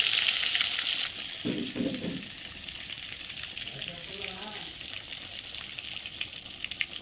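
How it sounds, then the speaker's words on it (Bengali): Eggplant pieces fry in hot oil over a wood-fired stove, in the same oil just used for rui fish, giving a steady, close, loud sizzle and crackle throughout with a brief duller knock near the start. "বেগুনটা ভেজে নিচ্ছে"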